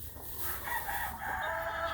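A rooster crows once, a faint drawn-out call heard alone against quiet background hiss.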